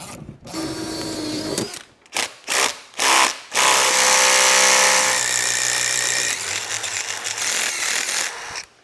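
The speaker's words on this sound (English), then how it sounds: "That's one way to drill a hole." A power drill whirs in bursts while drilling a hole during a motorcycle build, starting and stopping several times before a long, loud, steady run near the end.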